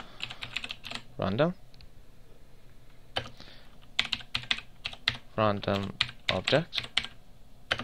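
Keys clatter on a computer keyboard in short bursts of close typing, with someone talking over and between the bursts.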